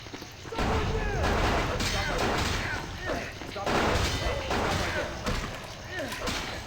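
Fire axe melee strikes in Vampire the Masquerade Bloodlines land as a dense run of heavy thuds and impacts, mixed with grunts and game noise, loud and continuous throughout.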